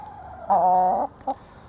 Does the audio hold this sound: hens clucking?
yes